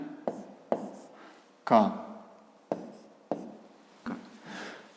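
A pen scratches out the letters of an angle label by hand on paper during a fifth-grade geometry exercise, in a series of short, separate strokes with quiet gaps between them.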